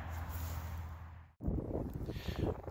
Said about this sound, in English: Well, as usual, windy again.